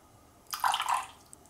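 A brief pour of 100 ml of water into a small bowl, a short splashing trickle lasting about half a second against a quiet kitchen background.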